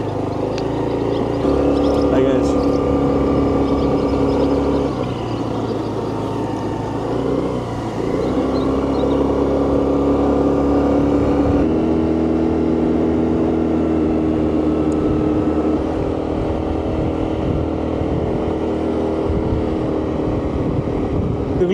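A motorbike engine drones steadily and loudly while riding around an island in the Bahamas, the bike in only fair condition, with a constant rumble that shifts pitch slightly as speed changes.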